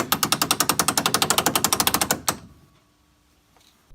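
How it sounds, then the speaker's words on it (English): A roller coaster restraint's mechanical ratcheting system locking down, giving a rapid, even train of sharp metallic clicks that ends in a final clunk, then silence. Close and crisp. "they use a mechanical ratcheting system like the one in this video"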